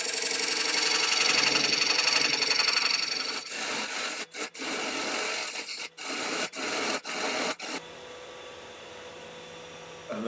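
A wood lathe spins a cake platter blank mounted between centres while a tool trims its face and edge, giving a loud continuous scraping rasp over a motor hum that breaks into choppy, interrupted cuts before easing off.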